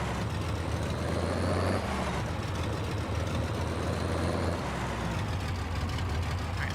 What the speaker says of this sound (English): I just love the sound of that tractor. It's a diesel Supermax or something like that, I think it's called.